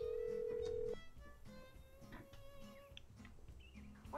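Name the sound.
telephone call in Nancy Drew video game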